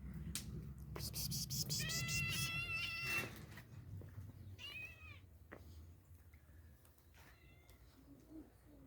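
Several cats meow several times, high and drawn out, close by, with quieter outdoor background sounds between the cries.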